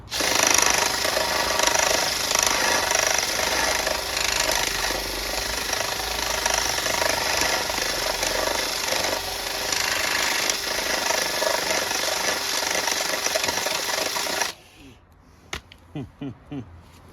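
A power drill with a bent drill bit grinds loudly and continuously with a rattling, uneven chatter for about fifteen seconds, then cuts out to quiet knocks; work on a Honda CB400 Four motorcycle.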